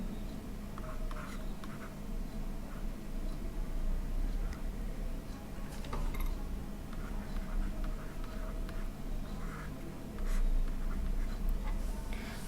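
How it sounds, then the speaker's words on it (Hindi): A teacher writes by hand during a Hindi literature lesson, the soft scratching strokes faint and intermittent over a quiet room hum, with a murmur of voice now and then. "तो पहले हम इसका लिखेंगे प्रसंग"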